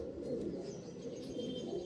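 Andhra pigeons, including a male of the tiger breed, give soft, low cooing calls that blend into a continuous murmur, faint and fairly close, without speech.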